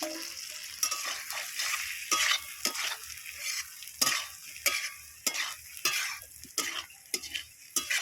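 Fried potatoes are stirred into an onion, ginger and chili masala in a hot pan, with a sizzle broken by rhythmic, close scraping strokes of a spoon against metal.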